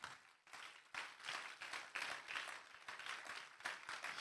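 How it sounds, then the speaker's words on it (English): Sustained audience applause fills a leadership seminar hall, dense clapping from many hands in uneven waves that swell and dip throughout, loud and close with no talk over it. "Wow, can you clap for them?"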